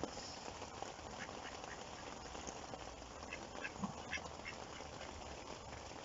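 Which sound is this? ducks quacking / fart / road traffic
ducks quacking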